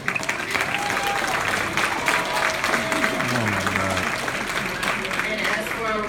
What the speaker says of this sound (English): I really want to give a round of applause